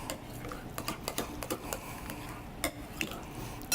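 Crepe batter with a couple of teaspoons of Parmesan being stirred, a spoon tapping and scraping against a bowl in quick, irregular clicks, close and fairly quiet with no talking.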